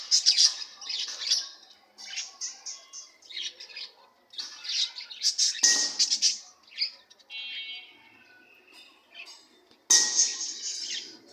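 Diamond doves, a mother feeding her chick, give repeated squawking and chirping calls in close, uneven bursts with short pauses between them.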